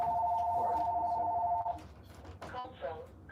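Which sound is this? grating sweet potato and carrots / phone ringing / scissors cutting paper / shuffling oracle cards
phone ringing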